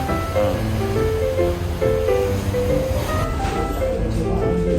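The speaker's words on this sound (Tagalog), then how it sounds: "napakalakas ng alon no?" Strong sea waves off Dipolog City roar steadily and fairly loud, a continuous wash of surf with tonal sounds layered over it.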